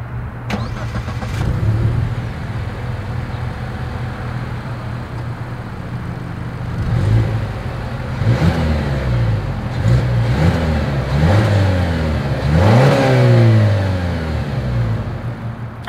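A 2023 Mazda CX-50 fires up at the exhaust, settles into an idle, then gets a series of short, sharp throttle blips that rise and fall several times, heard close and with no talking.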